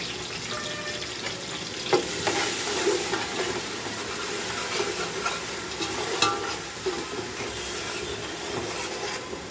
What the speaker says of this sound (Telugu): ఉల్లిపాయ పచ్చిమిరపకాయ కలిపి వేసేసాను